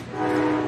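A train horn sounds as a loud, steady sustained blast with a rich chord of harmonics, held for under a second with no talk over it.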